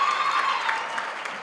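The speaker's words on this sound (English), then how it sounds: "Can you applaud them?" Graduation ceremony audience applauding the funders in a hall, a dense, steady wash of clapping from many hands throughout, fairly loud and even with no voices on top.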